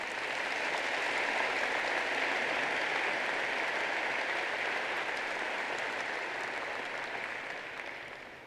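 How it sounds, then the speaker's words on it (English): A large audience at the Zeeland West 2018 graduation ceremony applauds school board members, a dense, sustained wash of clapping that holds loud and steady before tapering off at the end. "Please give a round of applause to all of our great school board members."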